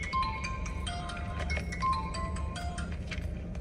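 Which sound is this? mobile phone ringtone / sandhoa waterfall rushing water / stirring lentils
mobile phone ringtone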